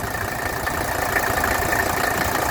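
A cold 1981 Mercedes 300SD diesel engine idles steadily and evenly, a dense, continuous rumble with a faint rapid clatter running through it, close and loud with no voices.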